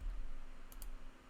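Two quick, faint mouse clicks sound close together during Photoshop work, an option-click into a layer mask, over a low steady hum.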